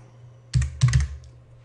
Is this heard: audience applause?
no